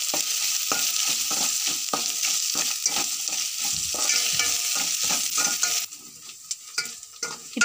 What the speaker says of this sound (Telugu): ఈ మిశ్రమాన్ని కలుపుకుందాం